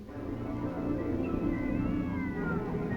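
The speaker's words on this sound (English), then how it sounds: "A cat screams." A cat screaming outside, a drawn-out wavering yowl that rises and bends over a rumbling, noisy background, heard at moderate distance.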